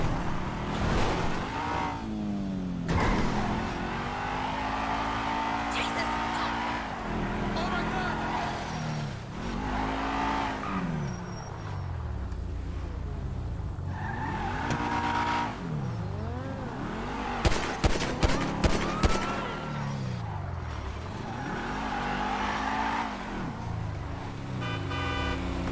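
Cars rev, whine and skid through a GTA 5 drive, engines climbing and dropping in pitch with a burst of quick horn-like toots midway; a voice talks over the steady game noise.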